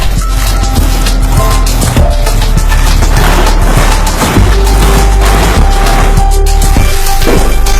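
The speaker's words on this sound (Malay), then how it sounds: "Bunga jantan akan dipecahkan menggunakan penggelik bagi mengeluarkan debunga." Male coconut flowers of the Matag coconut being struck over and over with a tool to knock out pollen, giving dense, loud, rapid rattling cracks and clatters that run continuously.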